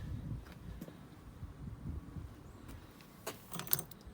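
Two car keys for a used MINI Convertible 1.6 One jangle faintly and briefly, a soft metallic rattle with a sharper clink near the end over quiet background noise.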